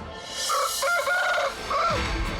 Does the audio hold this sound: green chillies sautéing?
no